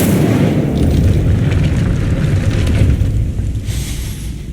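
A loud, roaring whoosh of fire from the Incendio spell in Hogwarts Legacy, a continuous rumbling burst that holds steady for several seconds before tapering off, with no talking.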